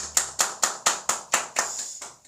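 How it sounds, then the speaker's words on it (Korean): Applause of praise rings out at a church worship service on the second Sunday of Easter: eight crisp claps in an even, steady rhythm, fairly close, with no talking. "우리 예배를 받으신 하나님께 영광의 박수 올리겠습니다."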